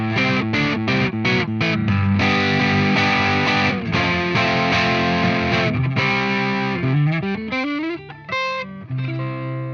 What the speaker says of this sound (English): The mild overdrive sound is always in your effects.